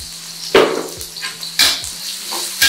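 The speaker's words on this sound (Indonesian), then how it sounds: "Kita goreng, jangan sampai kering banget, setengah kering aja." Filling for bakcang fries in a pan, with a steady close sizzle and a few sharp scrapes and clinks of a utensil stirring against the metal.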